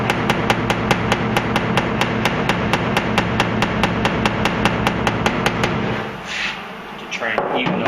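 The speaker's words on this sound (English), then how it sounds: "Got my body hammer here." A body hammer strikes a sheet metal wheel arch panel on a Duramax truck in rapid, even, loud blows, about three per second for six seconds, then stops, leaving faint shop noise.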